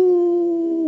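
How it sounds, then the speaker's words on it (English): A small white dog with one brown ear sits wet and cold on a doorstep and gives a single short, clear, sustained howl that holds a steady pitch and dips slightly at the end. "The little dog was howling."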